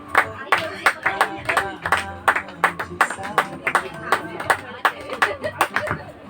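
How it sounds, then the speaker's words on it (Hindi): A group of people clapping at a birthday cake-cutting gathering, a steady run of sharp hand claps lasting several seconds, close and lively, with some voices faintly underneath. "सभी एक बार जोरदार ताली बजा के दीदी का बर्थडे का मुबारक दे दें।"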